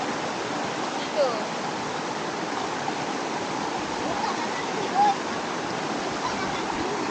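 Strong river water rushes steadily at a picnic spot on Sungai Pertak near Kuala Kubu Bharu, a dense, continuous wash of flowing water heard up close with no break.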